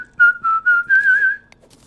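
A person whistles a short tune: four quick clear notes, then a longer wavering phrase, close and loud with no talking.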